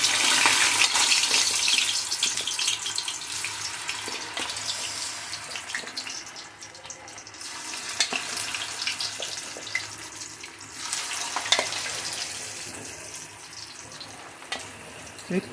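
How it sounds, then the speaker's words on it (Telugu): Raw banana pieces frying in hot oil for a banana pickle, producing a loud, dense, continuous bubbling sizzle up close that swells and eases slightly, with occasional faint clinks of a ladle. "ఇప్పుడు వీటిని మనం నూనెలో వేయిద్దాం. నూనె పెట్టి బాగా మరిగిన తర్వాత మనం దీంతో వేసుకుందాం."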